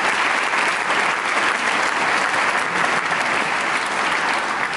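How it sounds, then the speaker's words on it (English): A school concert audience claps loudly and steadily, a dense, continuous wash of applause with no talking over it. "So if we can give her a round of applause."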